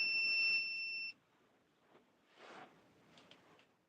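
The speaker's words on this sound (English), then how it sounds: "It's gonna beep and it's annoying." A 1974 Chevrolet Nova gives a steady, piercing electronic beep for about a second as power is switched on, followed by faint clicks and low rustling.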